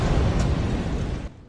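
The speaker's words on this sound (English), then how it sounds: "The explosion effect is reused for 2 death sequences." A loud, rumbling explosion sound effect from a Nancy Drew video game roars with dense, broad noise for over a second, then cuts off abruptly.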